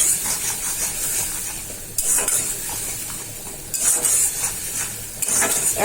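Ground spices sizzling and frying in a pan as they are stirred with a utensil, with scraping bursts at intervals over a steady close hiss.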